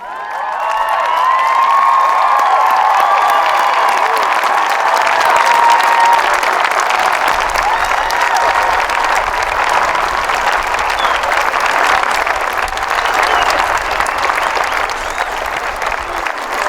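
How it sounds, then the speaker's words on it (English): A large commencement crowd at the University of New Hampshire rises in a standing ovation, with loud sustained applause, scattered cheers and whoops filling the space throughout. "Let's give them the big standing ovation that they deserve too."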